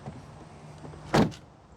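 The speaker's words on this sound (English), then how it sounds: "let's listen to the sound of the closing door." A 2024 Jeep Wrangler Sport S door swings shut with one close, solid thud followed by a brief rattle, heard alone against a quiet background.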